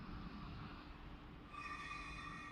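Class 700 train 700-040 pulls out of London King's Cross, a faint rolling rumble with rising motor whine and high tonal squeals near the end, distant and steady.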